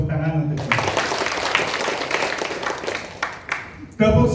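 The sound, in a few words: audience clapping hands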